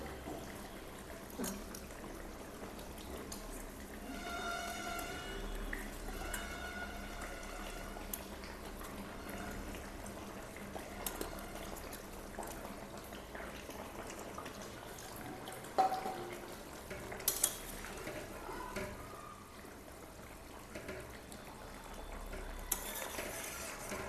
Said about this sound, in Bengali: আমাদের ঝোলটা ফুটে উঠছে, এখন মাছগুলোকে ছেড়ে দেবো।